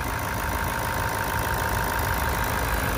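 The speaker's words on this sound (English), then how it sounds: "very neat, very quiet engine as well." A 2016 Toyota Land Cruiser VX 200 series engine idles in a smooth, steady, even hum that stays constant throughout, heard up close under the open bonnet with no talking.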